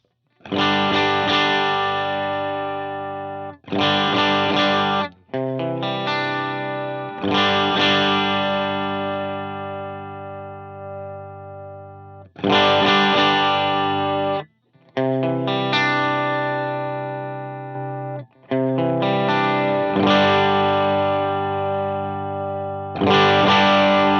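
Distorted electric guitar through a Dumble-style amp model on a Helix, a series of strummed chords each left to ring and decay before the next, played alone without voices.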